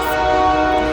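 Passing train sounding its horn, a loud sustained blaring tone over low rumble, close and continuous.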